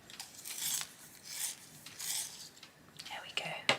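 A colouring pencil is being sharpened in several short scraping, rasping strokes separated by brief pauses. The sound is close but soft, and a faint breathy voice is barely present.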